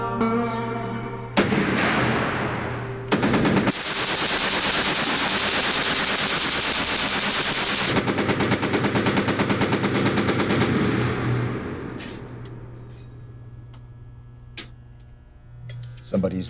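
Weapons being test-fired on a firing lane at the Rock Island range, loud sustained bursts of rapid automatic gunfire with a long continuous roar and a ringing decay, heard alone.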